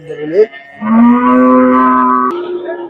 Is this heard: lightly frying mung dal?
no